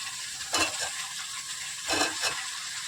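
Potatoes and cauliflower fry in a pan with garlic, green chilli and ginger, giving a steady sizzling hiss broken by two brief stirring scrapes.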